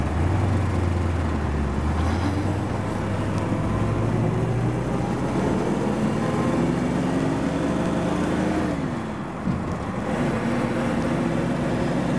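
1966 Ford Mustang GT convertible engine droning as the car is driven, pitch climbing steadily then dropping sharply at a gear change before rising again, heard from inside with wind noise and no talking.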